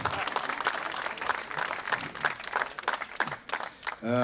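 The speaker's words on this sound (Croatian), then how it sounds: "veliki aplauz i za dirigenta gospodina Radovana Papovića" An audience applauds the conductor at a concert in Cetinje: dense, steady clapping filling the hall, fading near the end as a voice and tonal sound come in.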